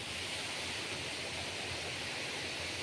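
Floodwater flowing through a rain-flooded plot, a steady, broad rushing wash that stays constant and fairly quiet, heard alone without any talking.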